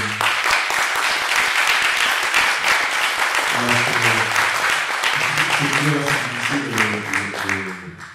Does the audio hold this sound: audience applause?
yes